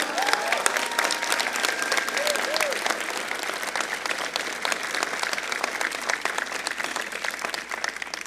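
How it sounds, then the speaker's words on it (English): An audience at a Trent University convocation ceremony applauds its founding president with sustained, evenly dense clapping throughout. Faint crowd murmur and a few vocal sounds sit beneath it. "have a round of applause for Trent's founding president"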